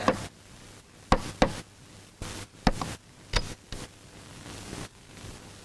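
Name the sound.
knocking on a door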